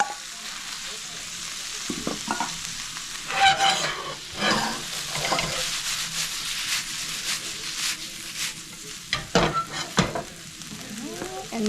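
Gnocchi and spinach tossed back into a hot pan, steady frying sizzle with clattering stirs and scrapes at irregular intervals, close and moderately loud, with no one talking.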